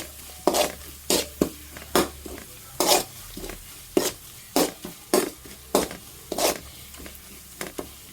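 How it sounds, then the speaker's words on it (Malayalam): Chili powder and garam masala frying in a pan for a fish dish, stirred in a steady rhythm of about a dozen scraping strokes over a soft sizzle, close and fairly loud with no talking. "ഇനി നമുക്കൊന്ന് നന്നായിട്ടൊന്ന് മുളക് പൊടി എല്ലാം ഒന്ന് നല്ലതുപോലെ ഒന്ന് മൂപ്പിച്ചെടുക്കാം"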